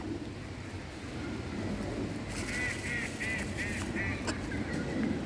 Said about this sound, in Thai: น้องเป็ดบินด้วยวันนี้บินโชว์